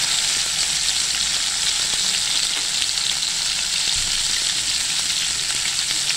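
Bay leaf and masala hit hot oil in a pan for mutton sukka, setting off a loud, dense, continuous sizzle and crackle that fills the whole stretch up close.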